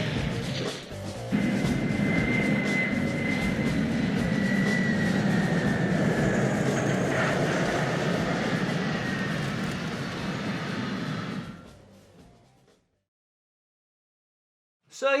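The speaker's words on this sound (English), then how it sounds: "finally, it's up to the skies to shoot down the general's plane." Engines of the general's plane in the Die Hard 2 rail shooter video game, a loud steady jet roar with a whining tone that holds for about ten seconds, then fades away into silence.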